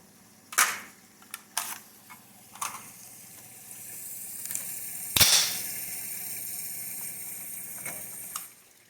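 A single sharp, loud report from a 60-year-old Armalite/Colt 601 AR-15 rifle during test firing, preceded and followed by scattered lighter mechanical clicks and clacks, with no talking.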